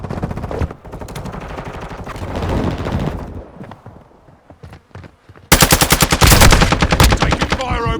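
Machine gun fire from Call of Duty MW2 rattles in long, loud, close bursts, breaking off briefly midway before a heavier sustained volley resumes.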